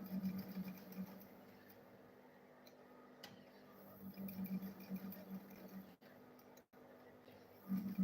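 A sewing machine stitching the corners of a one-handed school bag runs in short, quiet bursts of rapid ticking, with pauses and a couple of sharp clicks between them.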